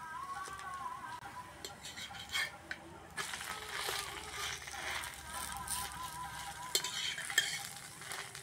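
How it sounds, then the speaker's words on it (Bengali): Food frying in a pan with a little oil spread over it, a soft continuous sizzle with scraping and stirring clicks throughout, close and fairly quiet. "অল্প অল্প তেল ছড়িয়ে ভেজে নেব"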